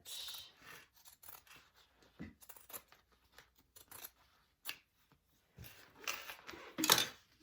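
Scissors snip through the fabric lining of a sewn crossbody bag in short, close, irregular cuts separated by pauses, with a faster burst of snipping near the end; no one speaks.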